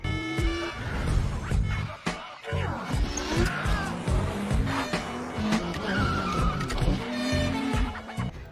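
Tires squeal and a car engine roars in a police chase scene from a film, with sharp skids, revving and a brief horn over busy action noise; voices speak briefly in the mix.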